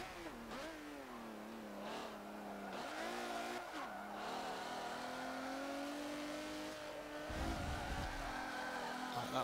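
A racing car in Forza Motorsport 7 oversteers through corners, its engine revving up and down in rising and falling sweeps with tyre squeal and skidding, loud and continuous throughout.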